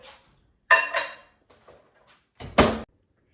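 A few clattering knocks of a plate with a grilled cheese sandwich being set inside a microwave, then a firm thunk as the microwave door swings shut, close by and quiet in between.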